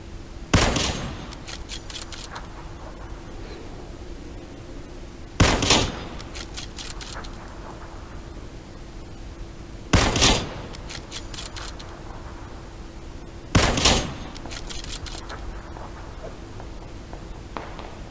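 Gunfire in the battle game PUBG: four loud, sharp bursts of shots spaced several seconds apart, each trailed by rapid rattling follow-up shots and a low steady hum between volleys, with no talk.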